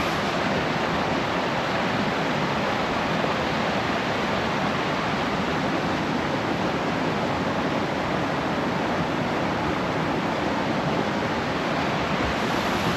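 River rushing through old growth cedar and fir forest, a steady, dense roar of flowing water that stays loud and unchanging throughout, with no voices.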